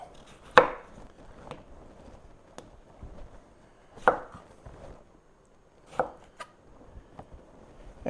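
A kitchen knife cutting a zested lemon into quarters on a cutting board, a few sharp, sparse chops spaced a second or more apart with faint handling noise between them, close and quiet.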